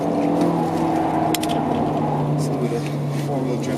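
An Audi R8 drifting on all four wheels on the Nordschleife, its engine drones steadily with a sustained tonal whine and occasional sharp ticks, while someone talks over it.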